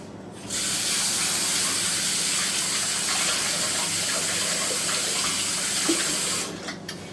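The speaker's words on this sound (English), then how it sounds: "I need to wash my hands." A kitchen tap runs full and steady as hands are washed, a loud close gush of water beginning abruptly and stopping near the end, with no one speaking.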